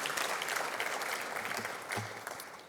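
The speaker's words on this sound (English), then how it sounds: "we could clap for that" An audience at an industry conference evening event applauds, a continuous wash of clapping from a crowd, moderately distant and fairly soft, with a faint voice near the end.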